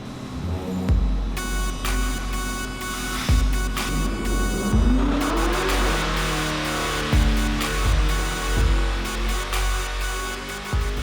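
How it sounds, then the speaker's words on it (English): A ProCharger F-1A-94 supercharged 427ci LSX engine runs on a dyno, a loud sustained roar with a rising whine sweeping up in pitch, punctuated by repeated sharp thumps at regular intervals. "we'll do probably do like 8 to 10 full throttle sweeps and raising RPM increments"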